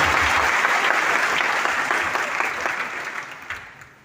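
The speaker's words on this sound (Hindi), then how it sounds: "आपके लिए छोटी तालियां हो जाए" A seated audience at a business meeting in Raipur gives brief applause. The clapping is loud and even at first, then thins out and fades away toward the end.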